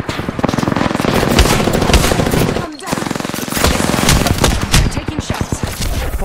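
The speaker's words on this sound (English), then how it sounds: "I am taking fire, friends" Loud, sustained automatic gunfire from the video game Apex Legends, with dense rapid bursts that pause briefly near the middle and then resume in choppier volleys.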